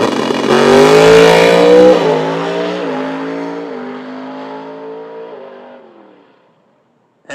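A big-inch, gasoline-fueled drag race car with no power adders and a triple disc clutch launches at a drag racing event at Toronto Motorsports Park. Its engine roars loud and close at first, then the sound recedes steadily into the distance before cutting out.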